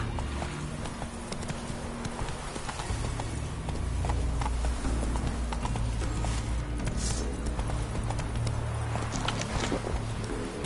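Horse hooves clip-clopping in a steady rhythm while riding in a PS5 video game, over constant low rumbling ambience.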